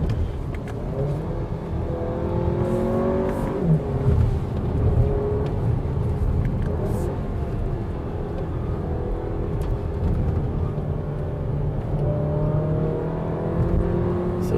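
A 2021 Audi Q3 Sportback Quattro with an automatic gearbox climbs a wet hill, its engine droning steadily from inside the cabin with gentle rises and drops in revs as the gears change on their own.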